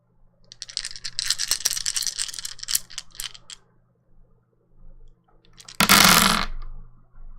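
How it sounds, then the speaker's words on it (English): Dice rolling and rattling across a table during a tabletop game session, a clattering burst for a few seconds, then a brief pause and a short, louder rattle near the end, with no talking. "It's just dice."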